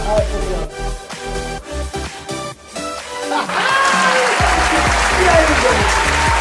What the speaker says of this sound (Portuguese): Uma salva de palmas, receba com total carinho